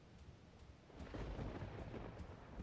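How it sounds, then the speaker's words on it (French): Rolling thunder from a storm in the Roblox horror game Doors rumbles low and steady, swelling louder after the first second and holding as a continuous wash with faint rain-like hiss. "Bon, l'orage, on a compris."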